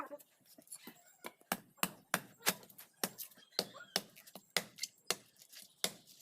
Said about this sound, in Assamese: এয়া নাৰিকল এটা আছে, কাটি লওঁ